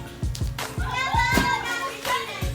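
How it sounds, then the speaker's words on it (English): Children at play in a home, their voices and occasional claps or taps coming through as a busy, uneven background clamor with bursts of chatter across the clip. "Hear my kids playing in the background."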